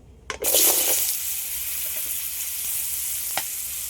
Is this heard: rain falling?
no